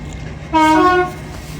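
An LNER train leaving York station on the East Coast Main Line gives one short, loud two-tone horn blast over a low rumble, with no talking.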